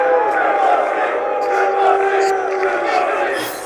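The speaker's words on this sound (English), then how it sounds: "Boo me first before I start." Crowd at a UFC 323 pre-fight press conference booing, a steady loud mass of voices jeering throughout with no gaps.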